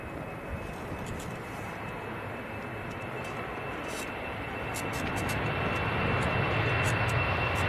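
Eastern Airways Embraer 190 flying for KLM departing Manchester Airport for Amsterdam, a distant jet engine rumble building gradually louder, with faint clicking noises in the background and no voices.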